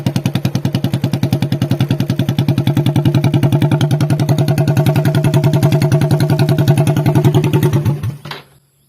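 A motorcycle fitted with a loud homemade exhaust built from a stainless-steel filter runs in a fast, steady pulsing rumble for about eight seconds, close and very loud, then cuts off abruptly into silence.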